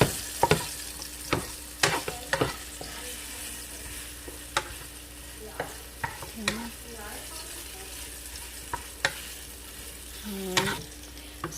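Garlic and rice sizzle steadily in a hot pan while a utensil scrapes and clinks against the metal again and again. The stirring is close and fairly loud, with no speech.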